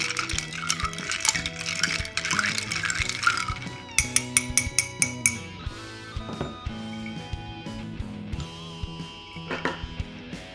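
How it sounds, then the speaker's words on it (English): An Arizona whiskey old fashioned poured over ice: close liquid splashing at first, then a run of bright, distinct clinks and rattles as ice cubes shift in the glass. "And I'm gonna pour this over ice."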